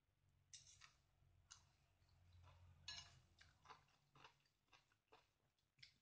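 Someone eating seaweed soup with tofu and enoki mushrooms, with quiet, close, intermittent chewing and slurping sounds.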